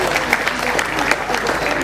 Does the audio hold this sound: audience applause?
yes